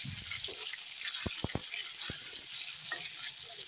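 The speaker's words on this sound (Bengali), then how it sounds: "এখন আলুগুলো আমি ভালো করে ভেজে নিই।" Potatoes frying in a wok for a rohu fish curry, a steady broadband sizzle with a few sharp clinks of a utensil against the pan, close by and with no talk.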